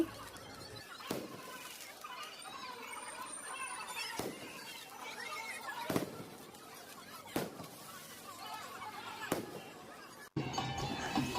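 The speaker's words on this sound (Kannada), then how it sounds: "ಪಟಾಕಿ ಮಾತ್ರ ತುಂಬ ಚೆನ್ನಾಗಿ ಹೊಡಿತಿದ್ರು" Firecrackers burst at a Venkataramana Swamy temple festival in sharp, separate bangs every second or two, some near and loud, over a steady crowd hum with voices.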